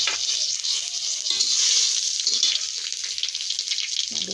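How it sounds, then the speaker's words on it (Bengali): Dried red chilies, a bay leaf and whole cumin seeds sizzle and crackle steadily in hot oil, a bright continuous frying hiss that swells briefly in the middle, with no talking. "শুকনো লঙ্কা একটা তেজপাতা একটু গোটা জিরা ফোড়ন দিলাম"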